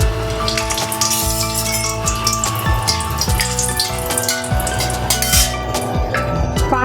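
Dry red chillies sizzling in hot oil in a heated wok for tempering a beetroot chutney, a loud, close, continuous crackling sizzle with no voices.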